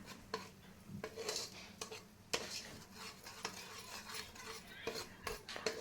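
A spoon stirs masala frying in oil in a cooking pan, producing soft, irregular scrapes and clinks against the metal over a faint sizzle, close and fairly quiet.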